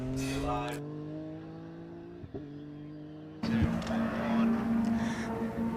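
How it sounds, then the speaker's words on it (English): A BMW race car heads into the hairpin on a summer race weekend at Anglesey, its engine note holding steady then dropping away before a louder, rougher engine roar cuts in close by. "So the BMW then heads into the hairpin"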